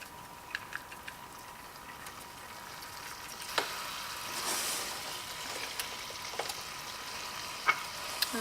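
Teriyaki sauce with ground ginger stirred in a pan on medium heat: a continuous soft hiss and bubbling with occasional light taps and scrapes of a utensil, close and fairly quiet.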